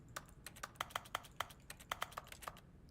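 Keyboard-like key presses in The Stanley Parable, a dozen sharp clicks in a loose, uneven rhythm over about three seconds, close and fairly quiet with no voices.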